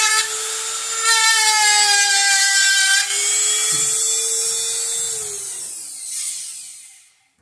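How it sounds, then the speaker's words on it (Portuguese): A power drill bores a hole in PVC pipe, giving a loud, high whine that shifts pitch as the bit bites, then winds down and fades out at the end. "Então nós temos que furar um buraco aqui."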